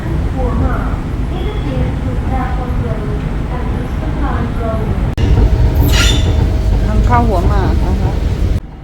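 Loud Bangkok Airport Rail Link train rumbling along with wheel squeal and rhythmic clatter near Hua Mak station, while a voice talks over the noise nearby.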